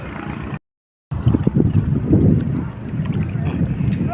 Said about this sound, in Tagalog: Tapos sobrang lakas pa ng hangin.